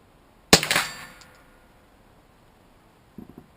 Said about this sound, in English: First shot with the